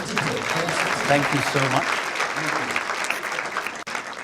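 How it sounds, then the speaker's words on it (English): Applause rises from a seated audience at a business talk event for invited guests, a dense, moderately loud wash of clapping that fades out, while a voice speaks briefly over it. "A round of applause for them for coming."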